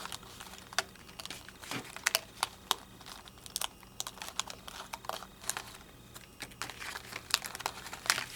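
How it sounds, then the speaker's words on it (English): Perforated card pieces from a HunkyDory craft kit are popped out by hand, giving a close, irregular series of sharp snaps and papery crinkles with no talking. "I'm going to pop all of my little bits and pieces out"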